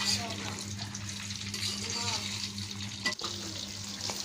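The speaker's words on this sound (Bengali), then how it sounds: "এভাবে আমরা সব আমগুলো ভেজে নিলাম" Mango pieces frying in oil for mango pickle, a dense continuous sizzle with a low steady hum beneath and a brief clatter near the end; a voice talks faintly at times.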